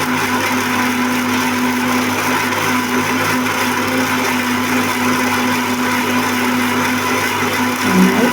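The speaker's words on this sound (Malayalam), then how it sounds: "ഇതൊക്കെ ജാറിലിട്ട് കട്ടൻ ചായ ഒഴിച്ച് നന്നായി അരച്ചെടുക്കണം" A mixer jar grinds herbs with black tea into a paste, its motor droning in a loud, steady whir throughout, with no voices.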